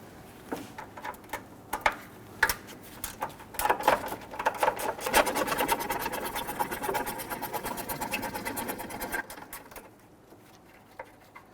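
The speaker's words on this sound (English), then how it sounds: "Go ahead and loosen and remove these. We're going to use a wrench for the lower." A wrench ratchets in rapid, close clicking bursts as 12 mm bolts are loosened on a 2006–2012 Toyota RAV4 3.5L V6 during an alternator replacement, speeding into a steady run before stopping.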